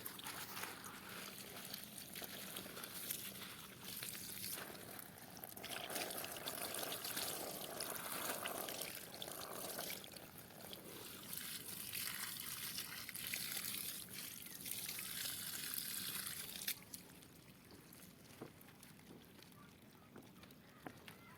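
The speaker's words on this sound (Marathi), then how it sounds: "पहिलं आपण पान धुवून घेऊया" A banana leaf is rinsed under running water outdoors beside a lake, a steady broadband splash and trickle lasting most of the stretch, then easing off near the end.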